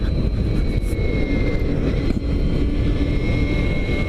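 Victory Empulse TT electric motorcycle (2016) accelerating on a throttle roll-on, a steady loud rushing whine blended with heavy wind roar throughout, no talking.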